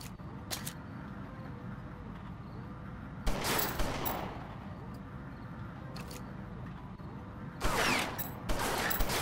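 Short bursts of gunfire from the gangster game Omerta - City of Gangsters crack out several times, spaced by quieter stretches with a low steady background bed.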